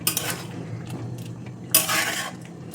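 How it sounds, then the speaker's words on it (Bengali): A metal lid is set onto a pot of simmering tomatoes, giving a few close clinks and scrapes, with one louder clatter partway through, against a quiet kitchen background. "আবারও কিছু সময়ের জন্য ঢাকনাটা আমি চাপিয়ে দিচ্ছি"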